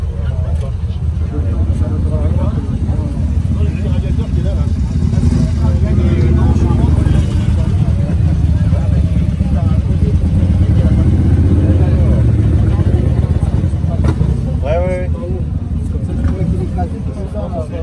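An open-engine Ford GT40 runs at a public square, a loud, steady low rumble close by that holds throughout while people talk and chatter around it.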